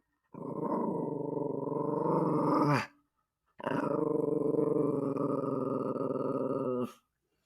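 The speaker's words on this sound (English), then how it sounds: "She barking at the mailman." A dog growls at the mailman in two long, loud, sustained rumbles close by, separated by a short pause; no barks stand out.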